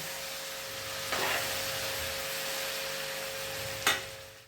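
Chopped multi-green muthiya sizzle and fry in hot tempering, a steady close crackle with two sharper scraping stirs of the spoon, no voices.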